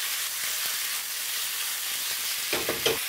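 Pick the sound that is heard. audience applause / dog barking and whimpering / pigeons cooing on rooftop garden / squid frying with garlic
squid frying with garlic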